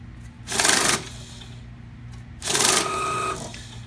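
Cummins Allison Jetscan 4062 currency counter running bills, two short loud bursts of rapid fluttering riffling, each about half a second, with quiet mechanical hum between.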